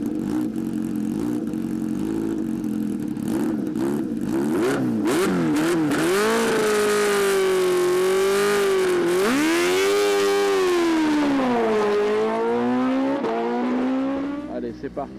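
A Kawasaki H2R four-cylinder motorcycle without a silencer, ridden on the Le Castellet track, roars loudly and close with a raspy, cavernous tone, rising and falling through repeated gear changes as it revs hard.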